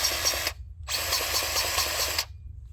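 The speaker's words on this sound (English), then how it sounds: "cordless grease gun." A DeWalt cordless grease gun motor whirs loudly up close in two bursts, a short half-second run, a brief pause, then a longer steady run of about a second and a half before stopping.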